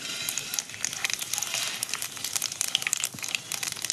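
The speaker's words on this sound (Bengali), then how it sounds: "কড়াইতে সামান্য একটুখানি সাদা তেল দিয়ে দেবো, দুটো শুকনো লঙ্কা দিয়ে দেবো, 1 চামচ দিয়ে দিচ্ছি জিরা, মৌরি দেবো 1 চামচ" Dried red chillies, cumin, fennel and nigella seeds crackle and sizzle steadily in a little white oil in a wok, with a dense, busy frying hiss and scattered sharp pops throughout, close up and with no voices.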